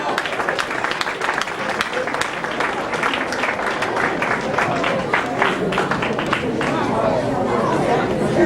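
Audience applause and crowd chatter at a youth ministry gathering, greeting a junior officer as he walks on; dense steady clapping with voices mixed in throughout, filling the room from start to finish.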